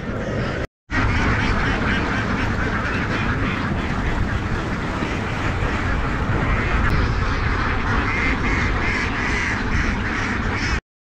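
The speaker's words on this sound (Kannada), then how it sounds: "ನೋಡಿ ಇವೇ ಬಾತುಕೋಳಿ." Ducks at a farm with a very large flock quack continuously, a dense, loud chorus of overlapping calls with no pauses apart from a brief cut near the start.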